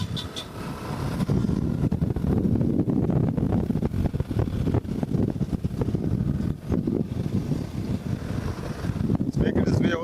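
A strong headwind buffets the microphone during a road cycling race, a loud, continuous rumbling roar with gusty surges that masks most detail, while a voice speaks underneath.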